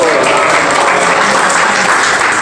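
Applause in a classroom during a microteaching lesson, loud, dense and continuous clapping from the class with no break across the short span.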